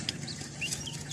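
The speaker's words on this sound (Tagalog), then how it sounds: "Sa manok no, naminaw." Chickens, including a rooster, clucking softly in a farmyard, with repeated short calls over a steady low background hum, no talking.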